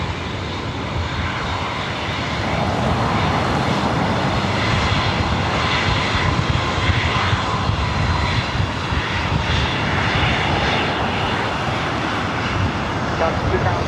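Delta Airbus A319 jet taking off at LAX, a loud, steady engine roar that swells early and holds strong, with faint talk underneath.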